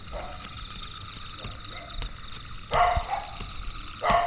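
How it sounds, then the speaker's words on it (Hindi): Dogs barking as a sound effect in a Hindi short-story narration, set in a dense silent night: short intermittent barks sound in bursts, with louder yelps near the end. "कुत्तों के भौंकने की भयंकर आवाजों"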